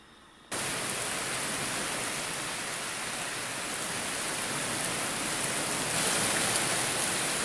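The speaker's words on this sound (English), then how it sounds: "My goodness, this rain." Heavy autumn rain pours down in a dense, steady hiss that starts abruptly and stays loud and unbroken, swelling slightly near the end.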